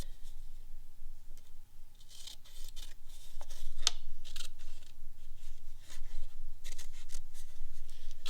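Scissors cutting freeform paper shapes for a visual art piece, with repeated close snipping and the rustle and scrape of paper running throughout, no talking.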